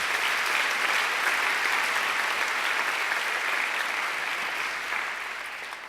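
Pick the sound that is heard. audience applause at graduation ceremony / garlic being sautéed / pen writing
audience applause at graduation ceremony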